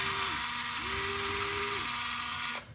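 A Craftsman 4V cordless electric screwdriver loosening screws, its motor whirring close and steady with a couple of pitch shifts as the load changes, then cutting off at the end.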